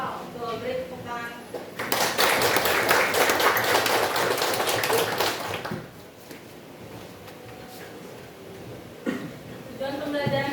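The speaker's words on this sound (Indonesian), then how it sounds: "Tuh, beri tepuk tangan." Classroom applause from students in a school lesson, a dense burst of clapping lasting about four seconds, loud and close, with a teacher speaking before and after it.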